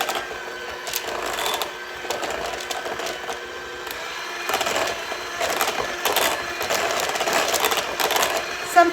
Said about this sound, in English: the setting on my mixer is super low